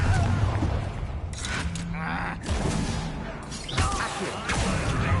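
Confringo fire spell being cast in Hogwarts Legacy, with several loud crashing blasts and bursts of game combat noise, broken by short gaps of quieter sound.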